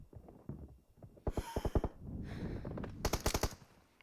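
A PUBG video game M4 rifle fires in a short burst, then a second rapid burst after a gap, loud and close.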